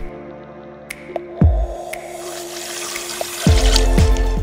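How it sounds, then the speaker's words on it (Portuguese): Water is poured into a blender jar with a steady trickling pour, and two sharper knocks and clatters cut through it near the middle and end. "o primeiro passo dessa receita é a gente colocar o seguinte, a água no nosso liquidificador"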